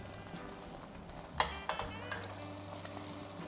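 An egg omelette with green onion sizzles quietly in a frying pan, a steady soft crackle broken by a few light scrapes and taps of a spatula.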